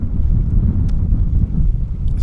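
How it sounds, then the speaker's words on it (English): Steady wind buffets the microphone on a misty, cloudy Dartmoor moor during a July camp, a loud continuous low rumble with gusty swells and no voices. "Today is this windy, cloudy business"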